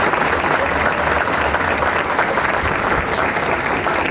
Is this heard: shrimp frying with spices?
no